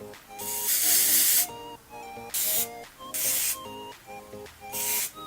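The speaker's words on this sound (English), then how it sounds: "It's a brilliant shine spray." Four close bursts of Kenra Silkening Mist shine spray in a quick rhythm, each a bright aerosol hiss, over faint background music.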